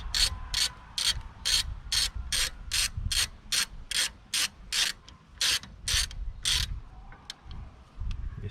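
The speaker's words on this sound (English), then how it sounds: "use the same T30 Torx bit to do up 2 Torx" A ratchet with a T30 Torx bit tightens two Torx bolts on a Peugeot 407 rear brake, giving a steady run of about twenty quick, crisp pawl clicks close by, then a few faint clicks at the end, with no talk.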